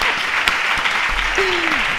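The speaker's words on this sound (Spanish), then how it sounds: "Un aplauso a la moderadora, por favor." Brief applause from an event audience for the moderator at a mental-health week broadcast, a short burst of steady clapping with a voice briefly audible over it.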